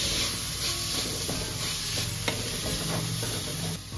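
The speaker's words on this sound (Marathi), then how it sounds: "त्यामुळे आपण यात हा अख्खा मसूर ऍड केलेला आहे" Soaked whole masoor lentils going into softened tomato in a kadhai, with a steady close sizzle, stirring scrapes and a sharp clink partway through; no one speaks.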